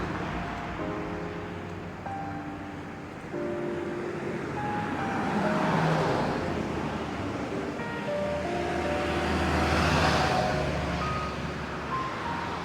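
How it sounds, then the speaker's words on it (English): Traffic rolls steadily along a main road, with passing vehicles swelling and fading as a broad, continuous roar close by, rising toward the end. "You can tell I'm right on a main road because you can sure hear it."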